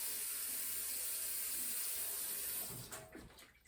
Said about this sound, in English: add a little bit of water in the tray